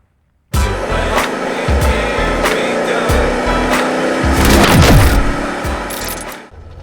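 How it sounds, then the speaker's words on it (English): One-owner 1995 Chevrolet Impala SS with a 5.7 V8 and 22,000 miles on a test drive, a loud, steady engine and road drone that starts abruptly and holds throughout, swelling slightly as it goes. "Let's take it for a test drive."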